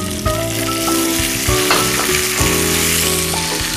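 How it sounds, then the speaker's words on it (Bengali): Water poured into a pan of onions and curry leaves frying in oil, a loud close sizzle with steady hissing and bursts of spattering, heard alone. "এবার আমরা এতে একটু জল দিয়ে দেবো সামান্য।"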